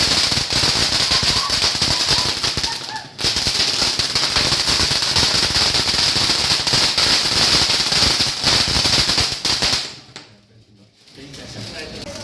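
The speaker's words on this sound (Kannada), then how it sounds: "ಪಿಂಕಿ ಪಟಾಕಿ ಹೊಡಿಯೋಕ್ಕೆ ಭಯ ಪಡ್ತಾಳೆ ನೋಡಿ" Firecrackers bursting at a Deepavali celebration: a long dense barrage of sharp crackling pops, loud and close, with a brief pause near the start and a sudden stop near the end before a quieter tail. Voices are heard among the bursts.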